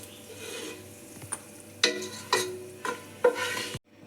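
Golden fried cashews are scooped out of hot oil in a pan for mushroom biryani: four distinct metal scrapes and scoops over a soft sizzle, close up and without talking, ending in sudden quiet.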